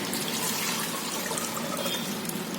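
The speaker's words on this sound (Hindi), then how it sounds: "तो सबसे पहले हम ये यखनी डाल देंगे।" Yakhni, a meat stock, pours steadily into a pot of rice as a continuous liquid rush that fills the whole stretch, close and unbroken, with no talk.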